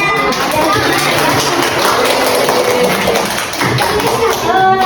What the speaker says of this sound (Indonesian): kelompok 1 ditepuk tangankan ya?